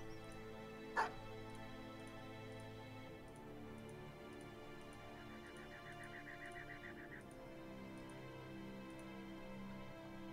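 Dogs in the video game Battle Brothers yip and bark faintly in a quick burst partway through, set against steady sustained game music and soft ticking, all at low volume.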